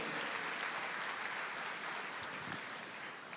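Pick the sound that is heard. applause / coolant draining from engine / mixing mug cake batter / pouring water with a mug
applause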